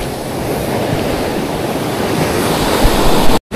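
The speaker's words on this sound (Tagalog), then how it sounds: "Grabe, lalaki ng alon." Big ocean waves crash at a beach in Sabang, Puerto Princesa, in a continuous loud roar of surf, with wind buffeting the microphone and a brief dropout near the end.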